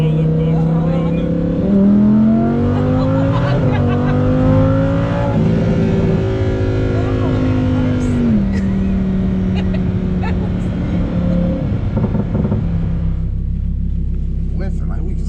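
Lamborghini engine drones loudly from inside the cabin while driving in Corsa track mode over a bumpy road, with rising and falling engine tones and continuous road rumble.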